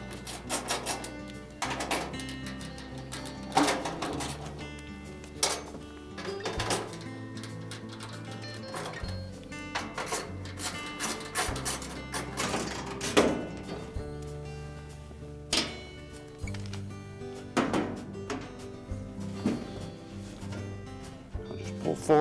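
5/16 screws being removed from the front bulkhead of a Maytag dryer, with repeated clicks, taps and metallic thunks of a driver and panel handling, spread irregularly over a low background hum.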